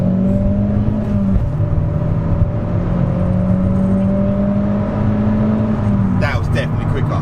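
Vauxhall Astra VXR Nurburgring launching hard from a standstill with wheel spin, the engine note climbing loud and close through the gears, while a voice talks over the run.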